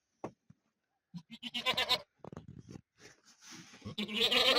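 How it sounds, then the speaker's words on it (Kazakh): Goats being brought in from the field bleat in a series of loud, close, wavering cries, some overlapping, with short quiet gaps between calls. "Мен ешкілерімді даладан алып келе жатырмын."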